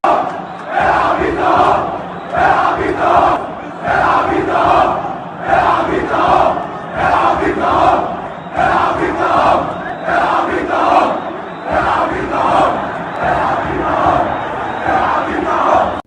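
Al Ahly football fans in a stadium chant in unison against Zamalek player Shikabala during the pre-match warm-up, a loud rhythmic crowd chant repeating in regular bursts with short gaps between phrases.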